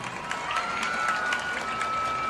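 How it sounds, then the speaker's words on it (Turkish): A live studio audience on a Turkish broadcast applauds, dense steady clapping with some cheering that stays loud and even throughout, with no talking over it. "Allah'a bir alkış istiyorum beni sizlerle buluşturduğu için"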